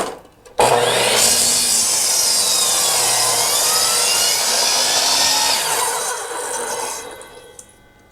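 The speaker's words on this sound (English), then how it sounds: "I will get out the handsaw and cut those." A saw starts abruptly and then cuts continuously through wood framing with a harsh, steady rasping grind that stays loud and close for several seconds before tapering off near the end.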